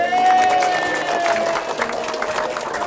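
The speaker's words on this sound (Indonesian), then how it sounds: "Boleh tepuk tangan dulu yuk." Applause and some cheering from a studio crowd on a television variety show, moderately loud over music with tonal notes, with voices mixed in.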